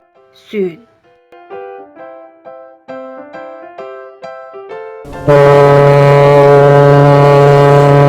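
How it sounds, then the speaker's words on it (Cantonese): A toy ship plays a short electronic jingle of stepped notes, then bursts into a loud, sustained foghorn-style blast layered over a steady engine rumble that holds to the end. "ship"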